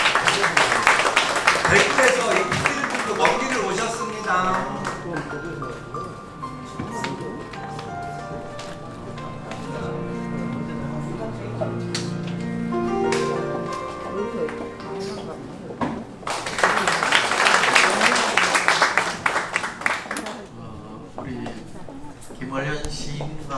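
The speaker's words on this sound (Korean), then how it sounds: "박수 한번 주십시오." Audience clapping at a Korean poetry book launch event, bursts of applause at the start and again later, interleaved with someone speaking and a lull of quieter talk in between.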